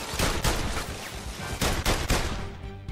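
Rapid bursts of gunfire from enemies in The London Heist on PlayStation VR, loud, close volleys repeating in clusters across the stretch with short gaps between.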